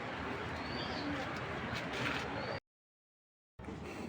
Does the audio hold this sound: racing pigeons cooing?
yes